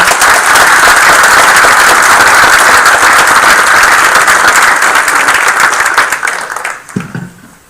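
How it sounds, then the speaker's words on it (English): Sustained loud applause from a crowd at a township council meeting honoring scholarship recipients, steady dense clapping for about six seconds before quickly fading out. "We have a round of applause for these people."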